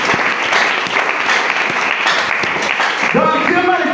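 A church congregation at a francophone Congolese service applauds loudly and continuously, dense clapping filling the room with voices mixed in and a rising shout near the end.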